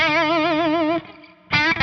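Electric guitar through a distortion-style effect, holding sustained notes with a wide, wobbling, uneven vibrato that sounds unmusical; a second played phrase returns after a brief near-silent gap.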